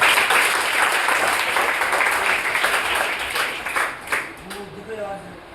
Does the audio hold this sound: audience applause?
yes